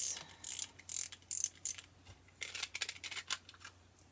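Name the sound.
tape runner applying adhesive to paper card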